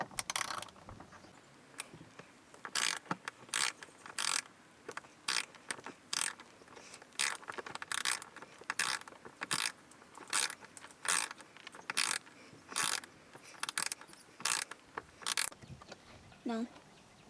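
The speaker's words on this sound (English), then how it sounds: "All you need for this project is a simple ratchet and a 8mm socket." Ratchet with an 8mm socket loosening long bolts above the front passenger door of a Ford Bronco, producing rapid clicking bursts repeated in a steady rhythm, close and crisp, with brief pauses between strokes.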